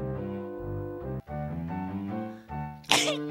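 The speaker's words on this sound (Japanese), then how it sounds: "皆さんの顔にくしゃみをしてしまいました" A single sharp sneeze bursts out near the end, loud and close, after a stretch of tonal game music playing in the background.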